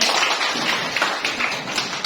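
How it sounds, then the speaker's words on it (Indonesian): Classroom group of students clapping hands together at the end of a lesson, a dense steady patter of many claps close by, with no talk over it. "Tepuk tangan dulu."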